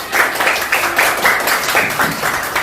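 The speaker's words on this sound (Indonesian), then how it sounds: "tepuk tangan dulu untuk kelompok A" Applause from a classroom of students for group A, a steady dense patter of many hands clapping at close range throughout, with no voices standing out.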